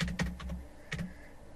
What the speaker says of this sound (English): Just going to type it in here.